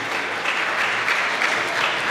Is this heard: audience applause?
yes